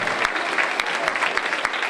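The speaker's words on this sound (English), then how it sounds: "Please give them a round of applause." A crowd at a sixth grade band winter concert claps steadily and loudly, dense applause filling the whole moment without letup.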